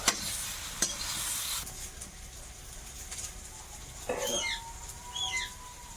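Food is stirred in a pan during Bengali home cooking of fried vegetables with potatoes: a close scraping stir with light sizzling, loud at first and then quieter, with some faint chirps in the background.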